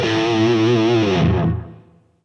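Electric guitar played through a POD HD500X with overdrive, reverb and analog echo, a distorted sustained chord ringing loud for about a second and a half, then decaying into a trailing echo tail.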